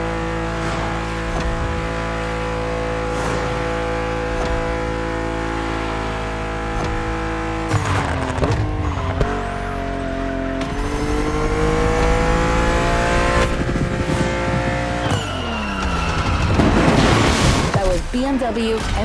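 BMW M2 CS racing car in a driving video game, its engine roaring steadily with rising and falling revs and turbo exhaust notes, loudest toward the end, with a voice speaking over it.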